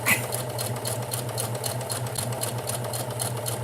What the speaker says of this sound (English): I am sewing an apron, or what I hope will be an apron.